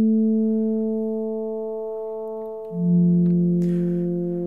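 Pure, smooth sustained sine-wave synth bell tones in Ableton Live, stacked in a chord, slowly fading, then a lower tone swells in with a longer attack and a brief bright attack lands near the end.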